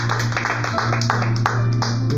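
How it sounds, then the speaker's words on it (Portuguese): Applause during a church service, scattered clapping over a steady low hum and background murmur of the congregation, moderately loud throughout. "Uma salva de palmas para o Senhor Jesus."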